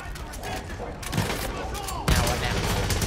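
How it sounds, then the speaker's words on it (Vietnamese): Heavy gun firing in Far Cry 5 during a tank fight, with dense bursts of loud gunfire and a sharp blast near the two-second mark, under excited talk. "Cái súng này bắn giật quá."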